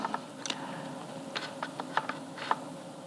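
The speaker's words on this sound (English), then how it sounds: "That part of the scissors is moving into that bent metal part, and this is pushing the scissors open." Scissors on an AK-I tufting machine are pushed open by a bent metal opener, giving light, sparse metallic clicks and ticks over a steady mechanical hum, fairly quiet and close.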